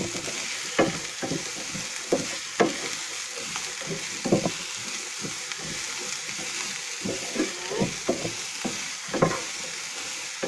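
Onion fries in a pan for pork sisig, a steady sizzle punctuated by repeated scraping stirs that come in irregular bursts, close and fairly loud, with no voices over it.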